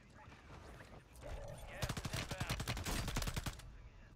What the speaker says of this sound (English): Start shooting at him.